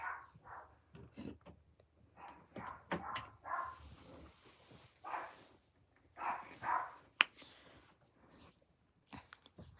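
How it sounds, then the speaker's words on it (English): A pet dog barks in a room, with a few quiet, scattered yips and woofs alongside soft chewing and rustling sounds, all faint and nearby. "Yeah, that's my dog."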